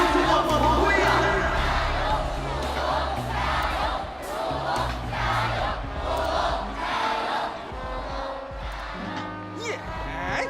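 A large crowd cheers and shouts in a rousing battle-cry roar that swells and surges for several seconds, loud and dense, with voices mixed through the din.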